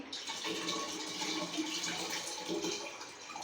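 Water pours into a bowl of Ugadi pachadi made with tamarind juice, jaggery, neem flowers and mango pieces, a soft continuous splashing trickle, fairly quiet and close, without speech.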